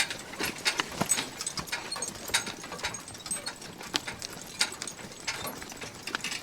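Draft horses being driven on lines, hooves clip-clopping in an uneven walking rhythm, moderately close and fairly quiet.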